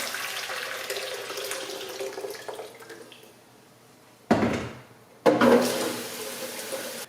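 Boiled water pours and splashes in bursts: a steady stream fades to quiet, then two loud gushing pours start abruptly, close by.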